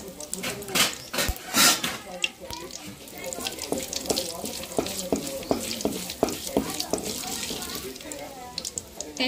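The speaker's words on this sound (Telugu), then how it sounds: "ఎండుమిర్చి వేసుకొని ఫ్రై చేసుకుందాం." Dry red chillies, cumin and tempering seeds sizzle in hot oil in a pan, with a steady frying hiss broken by sharp spoon clinks and stirring, and someone talks over it.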